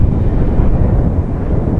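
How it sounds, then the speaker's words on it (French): Steady, loud low rumble of headwind buffeting the microphone while cycling, continuous and unbroken throughout. "Ah, j'ai un vent de face en plus."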